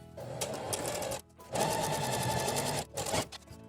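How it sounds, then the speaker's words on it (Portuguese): Sewing machine stitching a French seam on fabric, a steady close whir in several runs broken by short pauses, with no talk. "Então, a gente vai passar a costura bem aqui, pra cobrir esse pedacinho que a gente deixou."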